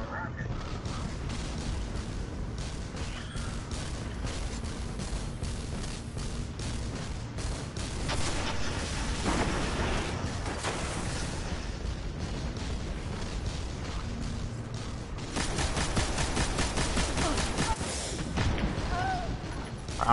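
Repeated rocket launcher blasts and booming explosions during a Destiny Nightfall strike with Void Burn, layered over constant battle noise and rattling shots, growing denser and louder toward the end; a voice is heard briefly at times.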